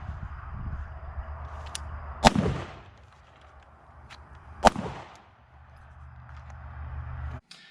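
Two sharp, loud handgun shots crack at a firing range several seconds apart, each followed by a short echoing tail over a low background rumble.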